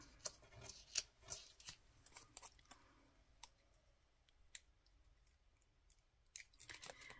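Scissors snip through foam mounting tape during card making, giving sparse, quiet crisp clicks and snips scattered unevenly over a near-silent background, with no talking.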